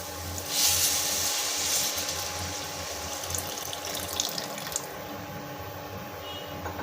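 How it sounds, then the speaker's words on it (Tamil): Tamarind water poured into a pot in a brief splashing stream, then fading to a quiet trickle over low background hum. "எலுமிச்சப்பழம் அளவு புளி கரைச்சி வச்சுருக்கேன் அதை ஊற்றிடலாம்"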